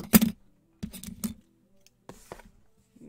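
A pair of scissors clatters onto a hard surface with a sharp clack, followed by a few lighter rattling knocks, then quiet.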